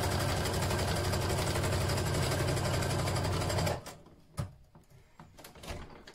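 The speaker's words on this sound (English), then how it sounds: "My machine's making a slightly clunky sound, which means it's unhappy with something." A sewing machine runs steadily stitching fabric for a slightly bigger stitch length, loud and continuous, then stops abruptly, followed by a few clunky knocks and handling noises as it labours unhappily.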